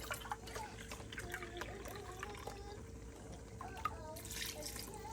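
Beef broth poured into a pot, about a cup and a half: a soft, faint trickling and splashing stream that runs continuously, quiet and close, with brief faint talk.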